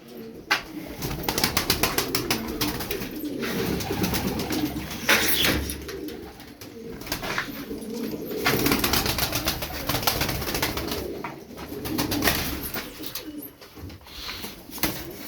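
Tumbler pigeons coo repeatedly at close range, with bursts of wing flapping in between, steady and fairly loud without clear speech.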